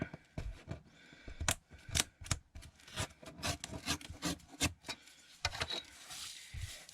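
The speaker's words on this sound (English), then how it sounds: "I will also trim a little bit of the bottom off here" Paper being trimmed from the bottom of a book page, heard as a series of close, crisp rasping cuts and rubbing strokes in an irregular rhythm, with short pauses between them.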